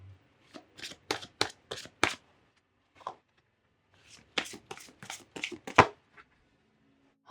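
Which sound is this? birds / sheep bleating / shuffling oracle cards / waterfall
shuffling oracle cards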